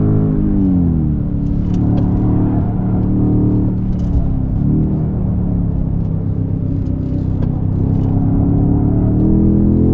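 A BMW G90 M5 lapping the Nürburgring roars loudly and steadily from up close, its engine note rising and dipping through gear changes and throttle lifts, with no voices.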